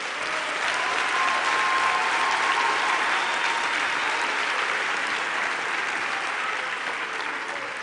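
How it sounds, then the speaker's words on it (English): Sustained, loud applause from a large crowd at a university law faculty graduation ceremony in a hall, steady and dense for the whole stretch with faint voices underneath. "Let's give our academics a round of applause"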